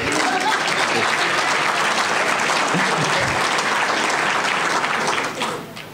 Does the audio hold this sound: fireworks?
no